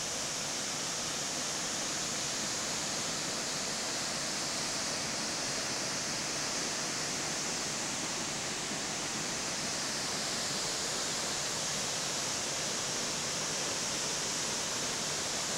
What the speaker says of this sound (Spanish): aquí estamos pasando por una cascada bien bonita